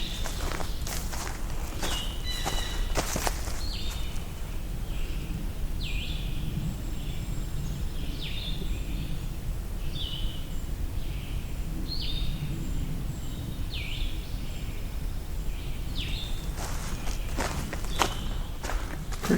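Distant trill of a dark-eyed junco, repeated several times as faint, rapid bursts over crunching footsteps in the woods, with no talking.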